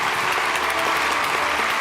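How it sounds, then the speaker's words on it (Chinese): A studio audience claps steadily at a TV health show while distinguished guests are welcomed onto the stage; dense, even applause fills the whole moment without pause, with no voices on top. "掌声欢迎"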